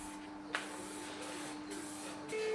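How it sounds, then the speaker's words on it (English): Etch primer sprays from an aerosol can onto the body of a Honda Civic EP3 Type R, a faint steady hiss with short nozzle bursts and a rattle, heard close in a quiet space. "So the etch primer is going on now."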